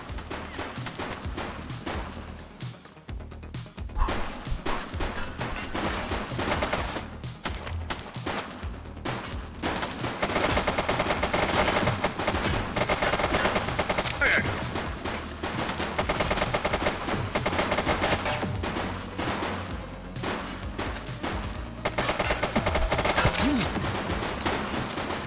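Sustained gunfire from The Precinct, a police action video game: dense bursts of shots and automatic fire pile up continuously at loud, close range, with a shouting voice briefly heard over the din.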